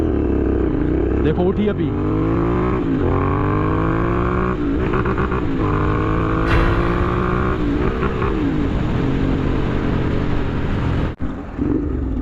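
A heavily modified Royal Enfield Interceptor 650 motorcycle accelerating hard in first gear, its loud close engine note climbing in repeated revving sweeps with brief dips at shifts, while someone speaks briefly over it.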